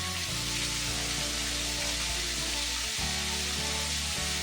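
Steady, dense sizzle of food sautéing in a pan with salt and turmeric, a constant close hiss with a low hum underneath and no talking.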